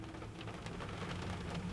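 Rain falls steadily outside near a dentist's office, a soft continuous hiss of drops with no voices.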